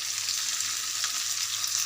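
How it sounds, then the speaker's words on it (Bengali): Surma fish fries with onions in a pan, giving a dense, even hiss of hot oil close up, with faint stirring under it, brief and steady with no talking. "আমার মাছগুলো আমি দিয়ে দিচ্ছি পেঁয়াজের মধ্যে। আর পেঁয়াজের সাথে আমি একটু ভালো করে নাড়িয়ে নেব।"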